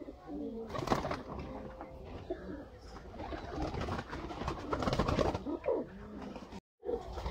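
Sialkoti high flyer pigeons, a 35-type breeder pair, cooing in repeated soft throaty rolls, close and overlapping, with a quick silent gap near the end.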